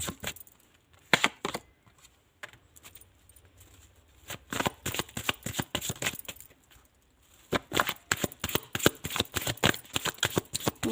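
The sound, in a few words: cards being handled and shuffled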